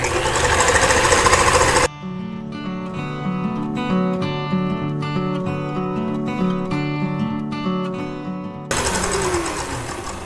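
An electric whisk runs on high, whipping meringue for macarons. The loud motor whir is rough and noisy at the start and end and settles into a smoother, steady hum in the middle.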